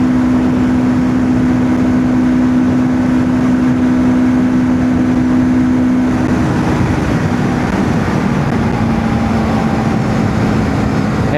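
Royal Enfield Guerrilla 450 motorcycle engine heard while riding, a loud continuous drone with a steady hum that shifts pitch partway through as the rider changes speed, with wind roar mixed in and no talk.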